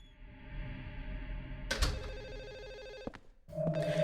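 A telephone rings inside an apartment building in the video game Silent Hill 4, its electronic trill sounding in repeated bursts with short gaps, moderately loud over a low ambient hum.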